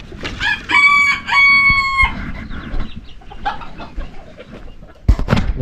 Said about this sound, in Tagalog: Dito naman, ito yung mga manok natin